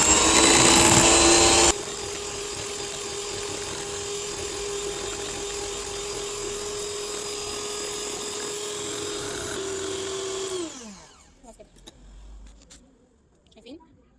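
An electric hand mixer whips cake batter with cream in a bowl for about ten seconds, giving a loud, steady, high motor whine. The motor then winds down and stops, leaving quieter kitchen noise.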